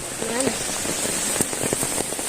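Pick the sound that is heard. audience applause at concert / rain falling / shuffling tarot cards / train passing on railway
rain falling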